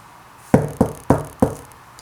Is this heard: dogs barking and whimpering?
no